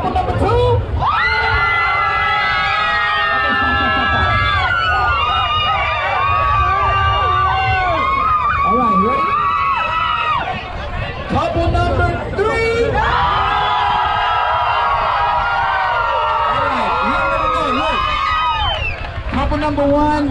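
A beach crowd at a Miami sandbar party cheers for a couple in a contest, with loud sustained whoops and shouts in two long waves separated by a brief lull.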